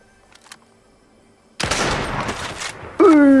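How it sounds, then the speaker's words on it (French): A sniper rifle shot in Fortnite, a sharp loud crack bursting out after near silence, followed by a brief gap and a second loud burst with a ringing tone. "Est-ce qu'on se tenterait pas une petite balle de sniper?"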